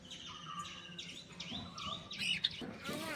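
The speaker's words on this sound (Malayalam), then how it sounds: "ഇത് കോക്ടെയിലാട്ടോ." A caged cockatiel gives a series of bright, close chirps and whistles in quick succession over faint background noise.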